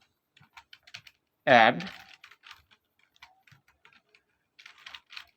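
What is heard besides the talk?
typing a command on a computer keyboard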